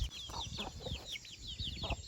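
A small flock of meat-breed chickens, hens and roosters together, clucks and chirps busily and close by, with steady farmyard rustle and low noise underneath.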